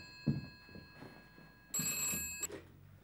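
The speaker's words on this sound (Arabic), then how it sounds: "التليفون بيرن" A telephone bell rings indoors in an Egyptian television drama, with one electronic ringing burst of about 0.7 seconds cutting in among soft thumps and scene noise, then a brief sharp tone at the end.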